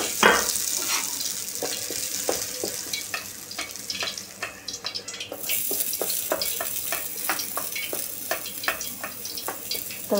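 Dried red chillies crackle and sizzle in hot oil for a fasting-style potato bhaji, a steady close frying hiss dotted with rapid irregular pops and stirring clicks, with no voices.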